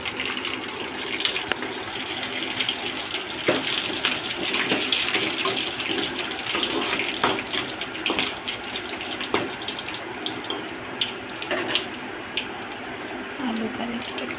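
Tap water runs and splashes while small-cut potato pieces are washed for a fry, a soft, continuous trickle broken by brief clinks and splashes.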